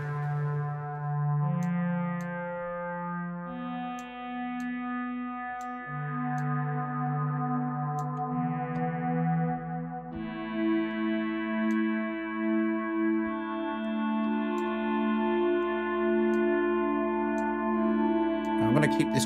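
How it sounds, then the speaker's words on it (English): A sustained SynthMaster 2 wavetable pad shifting slowly through chords, washed in reverb, with occasional faint clicks and no talking. "So now I'm going to go back to reverb."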